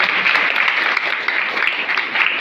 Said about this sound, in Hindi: इस भाई के लिए एक बार ताली बजा दीजिए।